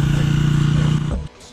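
A GasGas dirt bike engine on a motocross special stage, a loud close steady drone that cuts off abruptly after about a second, leaving faint background.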